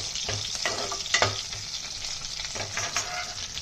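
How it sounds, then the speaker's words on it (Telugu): Chopped onions fry in a tempering for fenugreek-leaf dal, close hissing sizzle broken by repeated spatula scrapes and stirs against the pan. "ఆ ఉల్లిపాయలు వేసుకొని వేపుకుందామండి"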